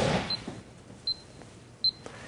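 An EyeLine Golf Metronome Pro ticks out a steady beat of three short, crisp electronic beeps spaced about three-quarters of a second apart, faint over quiet room noise with no talking.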